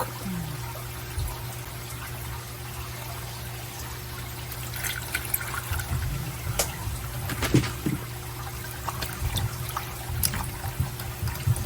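Milk pours into pecan waffle batter in a soft continuous trickle with occasional small splashes and clinks, close up against a steady kitchen hum, with no talking.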